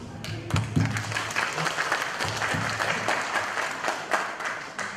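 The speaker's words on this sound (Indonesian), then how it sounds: "Tepuk tangan semuanya untuk keempat narasumber kita" An audience at a national Buddhist seminar gives a room full of applause: continuous, fairly loud clapping from many people that holds steady for several seconds, with faint voices under it.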